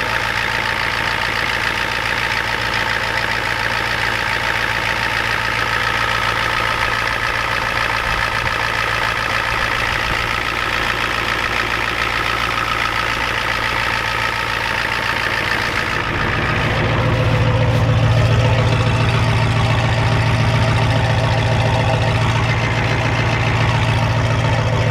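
A Ford F250 with a 7.3 IDI diesel engine starts cold and settles into a steady idle, loud and close, its low rumble swelling partway through and running on without any talk.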